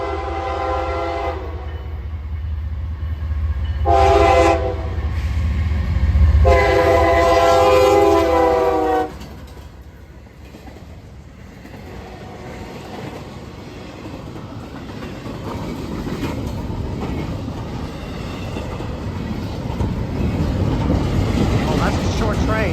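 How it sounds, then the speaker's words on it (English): CSX freight train heading northbound through Plant City, Florida, sounding a loud horn in long blasts before the short train's cars rumble past nearby, with wheel and rail noise continuing to the end. "Oh, that's a short train."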